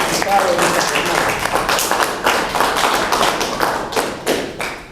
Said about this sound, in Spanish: un fuerte voto de aplauso para todos los estudiantes que han participado en esta jornada